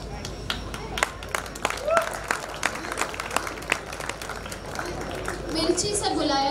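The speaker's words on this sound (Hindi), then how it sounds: "Please give a big round of applause for Vanshika Chaudhary and Saqib Khan." Audience applause at a talent hunt awards ceremony, scattered claps building under crowd chatter and a voice talking, moderately loud and continuous.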